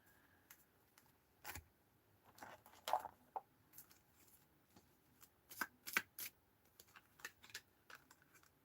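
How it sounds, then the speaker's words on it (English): Tarot cards being shuffled by hand, a run of crisp riffling flutters and soft slaps, some quick bursts close together, fairly quiet with no talking. "Shuffle again."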